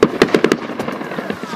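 Artillery fire in wartime Slavyansk cracks out as a quick series of sharp, close bangs, five rapid reports followed by fainter scattered pops and a lingering rumble.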